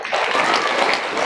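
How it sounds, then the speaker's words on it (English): Audience at a school winter awards assembly claps in a dense, loud burst of applause, many hands at once with no gap across the short stretch. "So keep on clapping"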